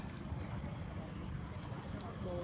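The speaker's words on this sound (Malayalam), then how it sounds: "ആ ബോട്ടാണ് ഞങ്ങൾ കണ്ടു" A boat on the backwaters at Thaneermukkam gives a steady low rumble, mixed with wind buffeting the microphone and broad water noise throughout.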